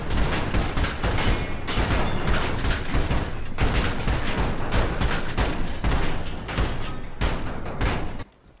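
Rapid gunfire from a shootout in the video game GTA, a near-continuous barrage of loud overlapping shots and thuds lasting about eight seconds before cutting off abruptly.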